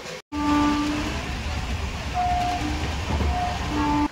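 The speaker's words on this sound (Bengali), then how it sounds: "দেখো, প্রায় ধরে ফেলেছি ট্রেন। এটা হচ্ছে বর্ধমান লোকাল।" A Bardhaman local train runs on the Howrah–Bardhaman line alongside an express, heard from on board as a loud, continuous rail rumble with rattling wagons and faint tonal squeals, broken by a brief dropout near the start.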